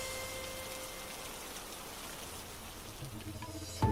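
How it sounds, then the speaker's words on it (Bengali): Heavy rain pours steadily in a Bengali village neighbourhood, a dense even hiss that holds throughout, with a low rumble and a sudden louder burst at the very end. No thunderclap is clearly distinct. "এ বৃষ্টি থামার মতন বৃষ্টি নয়।"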